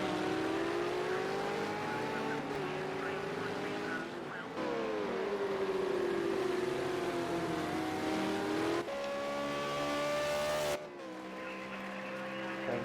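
A V8 Supercar racing engine in Project Cars 2 at Road America drones steadily at high revs, with pitch rising and dipping through gear changes and corners, under faint commentary.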